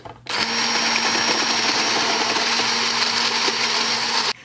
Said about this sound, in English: while I'm whisking the egg whites, I will add 3 tablespoons of the sugar